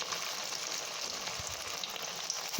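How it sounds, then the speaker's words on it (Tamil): Chili chicken vadai frying in oil over a medium flame, a soft, even bubbling hiss, faint and steady throughout with one small tap near the end. "இப்போ நம்ம தட்டி வச்சுருக்கிற வடையை நம்ம சேர்த்துக்கலாம். ஒவ்வொன்றா சேர்த்துக்கிடுவோம். மீடியம் ஃப்ளேமில் வச்சுக்கிடுங்க."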